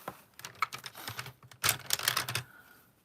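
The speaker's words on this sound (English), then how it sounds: "So I think I'm going to try to color this in." Repeated scratchy strokes of a coloring pen or marker filling in a letter C on paper, coming in quick close bursts with brief pauses, and no voices.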